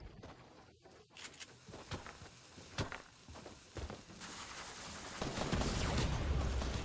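Gunfire in Fortnite, with scattered shots and bursts of varying loudness that build into a denser, louder barrage toward the end, alongside footsteps and other game noise.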